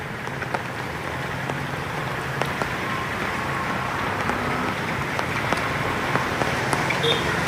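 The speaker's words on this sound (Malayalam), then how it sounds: "രാവിലെ മുതൽ തന്നെ ശക്തമായി മഴ പെയ്തുകൊണ്ടിരിക്കുന്നു" Heavy monsoon rain pours down in Kerala, a dense, steady hiss of drops hitting surfaces with scattered sharper splashes, continuous and close throughout.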